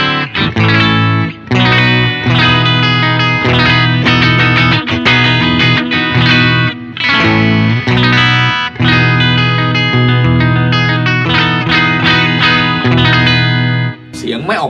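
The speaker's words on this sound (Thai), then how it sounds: "เดี๋ยวลองเช็คกีตาร์ไปเลยยาวๆเริ่มจากฮัมตัวหลังก่อนนะครับ" Ibanez RG320EXZ electric guitar played through its bridge humbucker with heavy distortion and chorus: loud, continuous chugging riffs and sustained chords, broken only by a few brief pauses.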